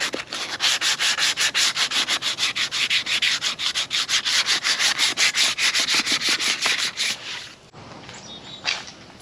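A steel wheel is hand-sanded with 120 grit sandpaper in rapid, rhythmic back-and-forth strokes, close and loud, with the scraping growing quieter and sparser near the end.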